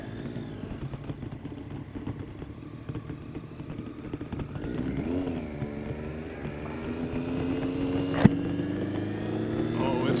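A motorcycle engine hums steadily at moderate distance, its pitch shifting slightly as it rides, with a sharp click near the end.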